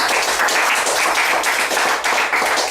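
Dense, loud applause from the audience at a 2013 CSEC graduation ceremony, a steady wash of many hands clapping together with no pause.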